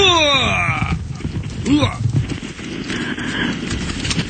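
Horse hooves clip-clop in a steady rhythm with a brief whinny, under scattered voices and outdoor noise.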